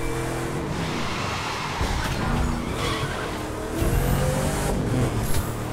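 A car in The Crew 2 racing game revs hard with tires squealing and skidding, a loud continuous roar of engine and rubber.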